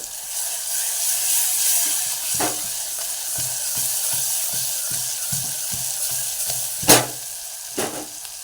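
Stuffed eggplants (bharela ringan) frying with masala in a pan, a steady close sizzle broken by repeated scraping stir strokes and a few sharper clanks of the spoon against the pan.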